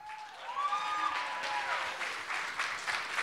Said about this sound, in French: C'est beau d'entendre tout ça, hein, ces applaudissements-là, ces encouragements-là.